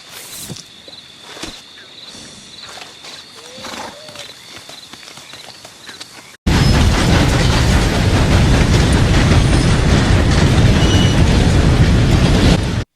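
Horse hooves clip-clop quietly at first, then a train in a video game roars past, loud and close, as a dense, steady rumble that fills the second half.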